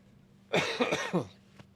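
A few harsh coughs in quick succession, close and fairly loud, followed by a short throat-clearing sound, then quiet.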